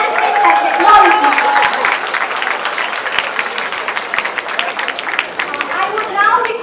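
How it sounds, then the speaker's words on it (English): A large audience at a college youth festival applauds a solo western dance winner, dense clapping and crowd noise rolling on steadily throughout. "please let us give a huge round of applause"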